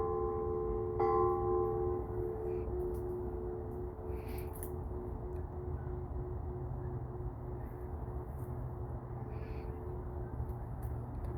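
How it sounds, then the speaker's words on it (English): A gong in an arboretum's Asian garden is struck once, giving a ringing metallic strike that sustains into a long, slowly fading hum under outdoor ambience, with faint bird calls later. "There's the gong. Yes, I'm gonna ring it."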